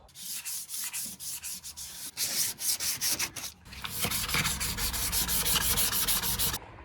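A car interior being scuffed by hand with 600 grit sandpaper, rapid rhythmic back-and-forth rubbing strokes close up, with a brief pause before a longer steady run.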